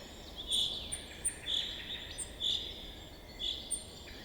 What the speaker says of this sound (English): Only the waking call of distant birds rises up, a pale sound too small to trouble the vastness.